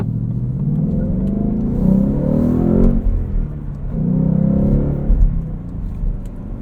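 A 2020 Ford Mustang GT Convertible Performance Pack with a six-speed manual, riding on Pilot Sport 4S tires, blips its V8 through rev-matched downshifts into first. The deep engine rumble swells and drops twice, loud and close, with no talking.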